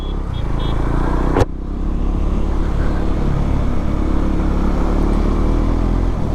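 A KTM Duke motorcycle engine runs at a steady, close, loud idle rumble, broken by one sharp knock or click early on before the low throb continues on its own.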